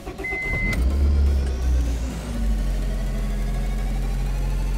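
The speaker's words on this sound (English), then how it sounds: "I'm gonna go ahead and start the car" A 1997–2001 Honda Prelude engine starting after an instrument cluster removal, a brief whine and crank followed by a steady low idle rumble, close and without talk.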